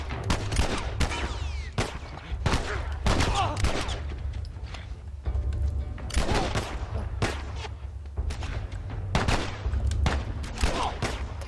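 Video game gunfire in The Last of Us, with repeated loud gunshots and bursts crackling throughout over a low rumbling game soundtrack, shots arriving in irregular clusters.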